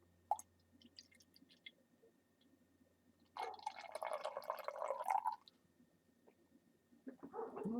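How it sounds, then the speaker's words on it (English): Founders KBS bourbon barrel-aged stout is poured into a glass, a close, soft gurgling stream lasting about two seconds, followed by quiet fizzing and a few light clinks. "why don't I do a close up of a pour?"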